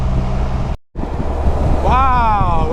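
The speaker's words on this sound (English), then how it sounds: "Wow, was it windy?" Strong wind buffets the microphone in loud rumbling gusts. There is a brief dropout, and near the end a voice rises over the wind.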